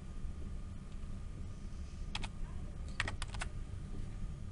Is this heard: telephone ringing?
no